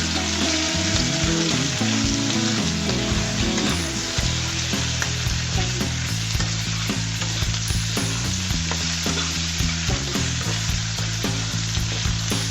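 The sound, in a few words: eggplant frying and being stirred in pan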